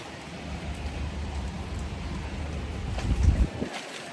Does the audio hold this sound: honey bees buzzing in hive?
no